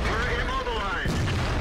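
A heavy tank gun booms once in a World of Tanks battle, a deep, sudden blast near the end that lands under steady voice chatter from a player.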